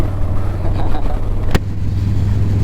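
A lowrider engine on a city street roars hard in a continuous low, loud drone, with a sharp brief click or pop midway through.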